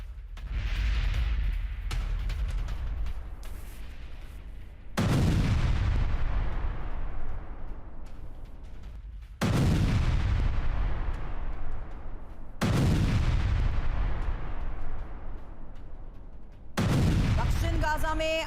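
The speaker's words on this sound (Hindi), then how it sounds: "हमास की इमारतों को विस्फोट कर उड़ा दिया गया।" Heavy explosions demolishing Hamas buildings in Gaza, four or five massive booming blasts spaced several seconds apart, each followed by a long rumbling decay, loud and close.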